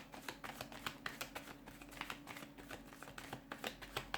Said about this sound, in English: I probably should have shuffled this off camera